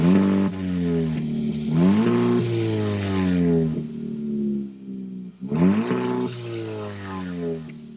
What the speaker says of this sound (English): start this turbo up so you can hear that exhaust note